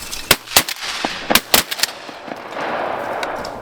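Several sharp shotgun blasts ring out in quick succession during a duck hunt over a flooded milo field in North East Texas, then a lower wash of wind and water noise follows.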